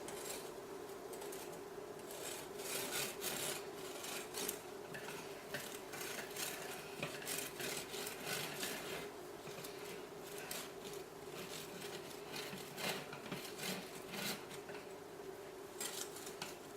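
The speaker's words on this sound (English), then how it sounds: "I'm going to be using a knife with a serrated edge, and I'm just going to cut the top off" A serrated knife saws through the top of a freshly baked vanilla cake from a heart-shaped mold, giving a steady, close scratchy rasp of repeated strokes that runs continuously without talk.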